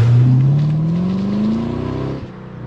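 A Chevrolet Camaro SS in Bumblebee trim revs hard, its deep, muffled American V8 rising steadily in pitch as it accelerates for about two seconds, close and loud, then the note drops off abruptly near the end.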